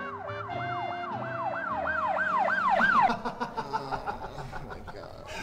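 An ambulance siren wails in a fast rising-and-falling pattern, loud and close, then fades into a softer pulsing tone with traffic rumble underneath.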